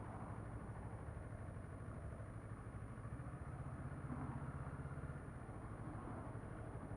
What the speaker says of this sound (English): It's got a nice sounding exhaust on it.